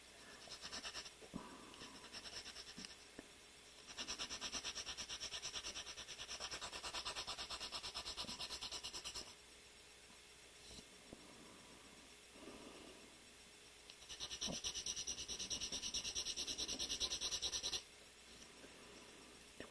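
A nail file scrapes in two close bursts of quick back-and-forth strokes, each several seconds long, with quiet pauses before, between and after them.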